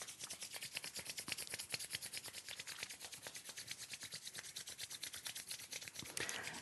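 Palms rubbing together vigorously in a fast, steady back-and-forth rhythm, a continuous dry rasping friction close by with no voices.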